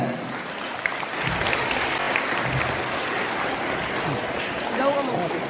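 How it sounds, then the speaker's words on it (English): An audience claps for dignitaries at a Teachers Day celebration, a loud continuous spread of hands with some voices and crowd murmur mixed in. "So all of you give a big round of applause with a great honor."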